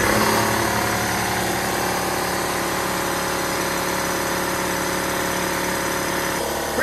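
A Husky 60-gallon air compressor motor drones loudly and steadily nearby, a constant mechanical hum with a buzzing vibration that holds throughout.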